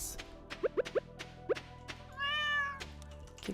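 A cat meows once, clear and close, in the video game Stardew Valley, amid a series of soft pops and light clicks from game sounds.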